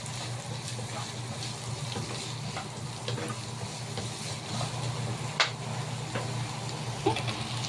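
Chopped onion fries in a pan with a steady, dense sizzle, while occasional scraping clicks mark it being stirred, faint and continuous throughout with a low hum underneath.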